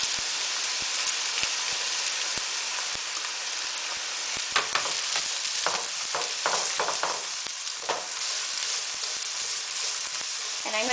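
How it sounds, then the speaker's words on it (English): Onions sautéing in three tablespoons of grapeseed oil give a steady, close sizzle throughout, with a run of sharper crackles and pops partway through as they are stirred in the pan. "And I have 3 tablespoons of grapeseed oil, and now I'm going to add in my onions."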